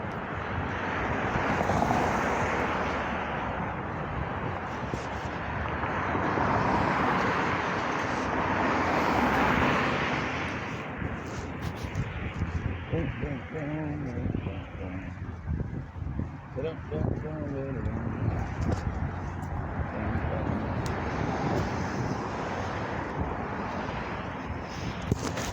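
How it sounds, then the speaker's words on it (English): An airplane passes overhead during an outdoor walk, a broad, steady roar that swells and fades over the whole stretch. Honk-like calls and voices are mixed in along with it. "Look, I even got an airplane going today."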